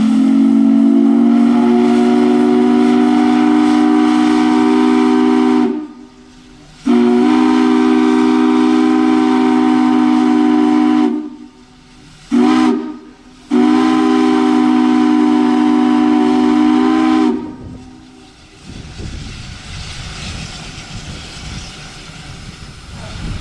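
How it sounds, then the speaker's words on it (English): A loud steam whistle sounds in long sustained chords, cutting off briefly several times between blasts, close and powerful at a steam heritage whistle blow, before fading to crowd and outdoor noise. "notice the similarities between the two whistles"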